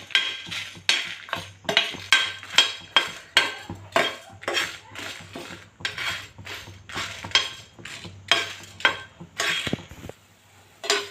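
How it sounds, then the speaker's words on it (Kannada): Black peppercorns, dried chilies and whole spices such as cinnamon and cloves frying in a pan for chicken fry, with a brisk rhythmic series of metal spoon scrapes and clinks over a faint sizzle. "ಒಂದು 5 ಕರಿಮೆಣಸು, ಒಣಮೆಣಸಿನ್ಕಾಯಿನ ಹಾಕ್ಕೊಂಡಿದ್ದೀನಿ. ಹಾಕ್ಕೊಂಡು ಇದನ್ನು ಸ್ವಲ್ಪ ಫ್ರೈ ಮಾಡ್ಕೊತೀನಿ"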